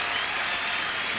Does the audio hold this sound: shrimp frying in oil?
no